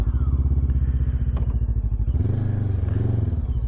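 A Bristol Venturi 500 motorcycle being ridden and accelerating, its engine a steady, loud, close pulsing drone that rises in pitch and strength as it speeds up, with wind rush and light rattles over it and no talking.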